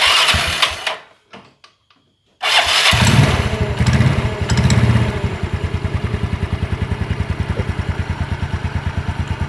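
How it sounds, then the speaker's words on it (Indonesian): Yamaha Mio scooter with a freshly fitted CVT belt: a brief starter whir and clatter, a short silence, then the engine catches and settles into a steady, close idle with an even rapid putter. "Sekarang kita coba nyalakan, nyalakan dulu ya."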